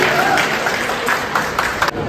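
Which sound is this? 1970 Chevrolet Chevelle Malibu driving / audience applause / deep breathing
audience applause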